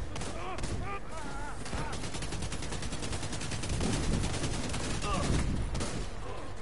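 Video game gunfire crackles in rapid overlapping bursts across a busy firefight, close and continuous, with voices talking over the shooting.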